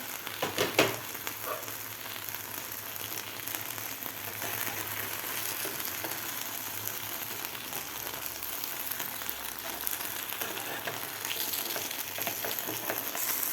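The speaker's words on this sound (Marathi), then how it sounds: "आता यावर झाकण ठेवून आपल्याला हे व्यवस्थित दोन्ही साईड करून फ्राय करून घ्यायचे आहे बटाट्याचे काप" Potato slices frying in oil in a covered pan, giving a steady, even sizzle that holds at one level throughout with no voices.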